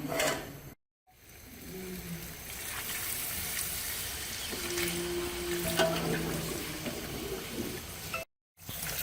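Water is poured into a pot to make chicken paya (chicken feet) soup, giving a steady close pouring and splashing sound with brief silent gaps near the start and end.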